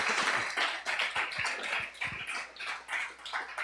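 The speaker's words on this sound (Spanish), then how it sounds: "Dale un aplauso fuerte al Rey de Reyes y Señor de Señores." A church congregation applauding during a sermon, a fairly quiet, uneven patter of many hands clapping at a distance, with no talk.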